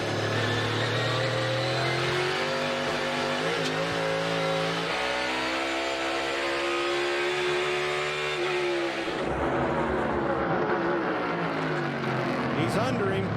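NASCAR race cars in the EchoPark Automotive Grand Prix accelerate out of a corner with loud, climbing engine roars that rise and shift gears over one another, under continuous excited commentary.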